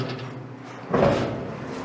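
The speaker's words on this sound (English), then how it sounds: "Let's open this door again." Car door with a chopped roof and a lowered door frame, opened once with a single muffled clunk about halfway through, after a quiet start.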